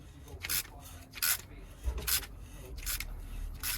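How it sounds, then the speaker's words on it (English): A tap cuts a thread into a seized injector sleeve on a Renault Trafic: a few close, rhythmic scraping rasps about every three-quarters of a second over a low background rumble. "We're using a tap to cut a thread in."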